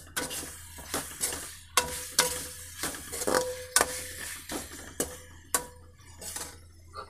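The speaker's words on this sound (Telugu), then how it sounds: "ఇది కూడా గుజ్జు గుజ్జుగా వేయించేసుకోవాలి." Two tomatoes fry in a pan and are stirred into a pulp for a brinjal and prawn curry. A steady close sizzle runs under repeated rhythmic scrapes and clinks of a spoon against the pan, with no talk.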